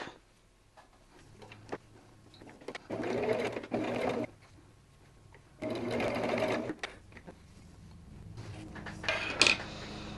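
A sewing machine stitches quilt block pieces together in two distinct bursts of rapid whirring, each lasting about a second, separated by quiet pauses with small handling clicks.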